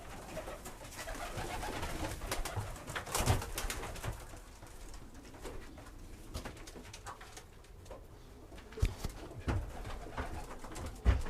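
Tippler pigeons in the breeding section of a loft, with soft cooing against a busy background of rustling and occasional knocks, fairly close but not loud.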